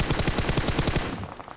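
Rapid automatic gunfire from PUBG Mobile, a steady rhythmic stream of shots fired close and loud for about a second before it stops, a few faint pops trailing after.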